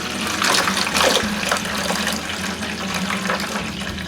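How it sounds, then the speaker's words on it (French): A cold-water tap runs with water drawn straight from a well at a cabin, a loud, steady close-up gush with no talk. "si je rouvre le robinet d'eau froide, j'ai de l'eau qui vient directement du puits"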